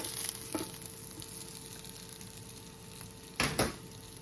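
Bacon fries in a pan with a quiet, steady crackle and hiss throughout, then a couple of louder sputtering bursts near the end.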